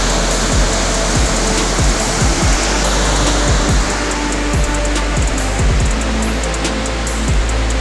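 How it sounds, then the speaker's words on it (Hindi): Water pours from a waterfall and flows at a dam, a loud, steady rushing roar that fills the whole stretch, with faint low thumps now and then. "ये आप लोगों को झरना दिखा रहा"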